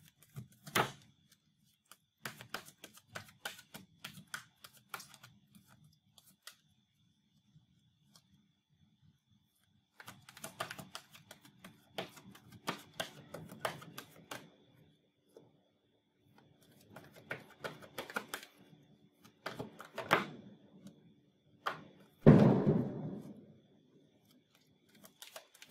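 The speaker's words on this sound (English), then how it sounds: "Gonna shuffle it real good 5 times." Oracle cards being shuffled in several separate bursts of quick riffling and rustling, close and fairly quiet, with pauses between rounds.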